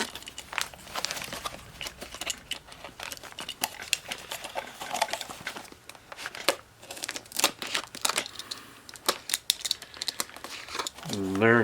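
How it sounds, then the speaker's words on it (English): A utility knife slashes corner to corner across a plastic mushroom grow bag, giving a run of crinkling, tearing plastic noises with short bursts and rustles close by and no talk. "Make sure you take a utility knife and nicely slash it"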